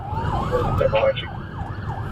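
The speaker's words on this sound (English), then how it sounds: "These cops come by with their sirens blaring." Police car sirens blare at close range on a neighborhood street at night, a loud rising and falling wail sweeping in repeated cycles, with a voice talking briefly partway through.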